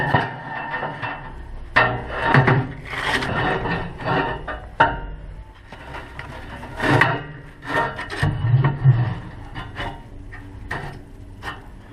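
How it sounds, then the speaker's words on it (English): A metal grid inside a Traeger pellet grill being scraped clean, close up, in uneven bursts of harsh rasping strokes with short pauses between them. "I'm going to scrape in the grid here"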